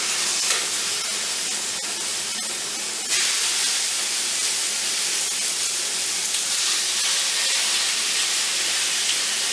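Chicken sizzles on a hot George Foreman grill with a continuous, loud, broadband hiss. It swells slightly a few seconds in, then holds steady.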